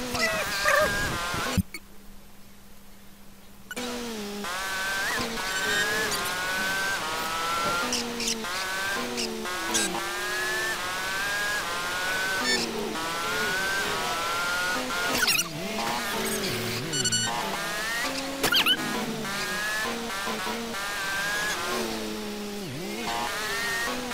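A car engine droning as it is driven back to the garage in GTA San Andreas, buzzing steadily with repeated rises and falls in pitch, broken by a short silent gap near the start.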